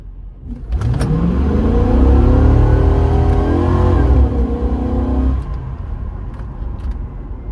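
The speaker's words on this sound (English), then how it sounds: "First gear launch." An Impala SS with an LT1 engine launches hard in first gear, its engine revving up loud and close with a rising whine for several seconds before easing off.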